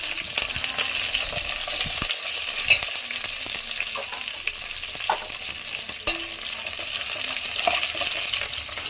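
Curry leaves frying in a pan of rasam base, a steady close crackling sizzle throughout with occasional stirring scrapes and clinks.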